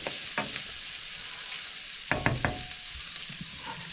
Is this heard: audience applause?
no